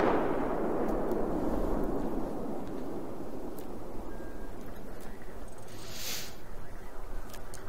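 Missile strike in Battlefield 4 lands as a heavy, booming blast at the start, its low rumble slowly rolling away, with scattered distant cracks and a brief hiss afterward.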